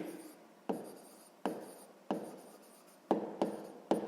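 A pen scratches across paper in short strokes during a sixth-grade maths lesson on oil in tankers, each stroke starting with a sharp onset and trailing off, about six in a row, close and with no talking.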